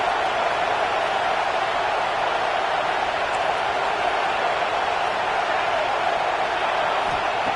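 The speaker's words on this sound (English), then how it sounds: "listen to this crowd noise. This stadium is vibrating" A stadium crowd roars in a steady, dense wash of noise that holds without pause from start to finish, loud and enveloping with no distinct voices standing out.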